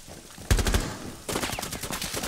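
Rapid gunfire from Rainbow Six Siege comes in two loud automatic bursts, the first starting abruptly with heavy low thumps, then a short gap before a longer, slightly lighter string of shots.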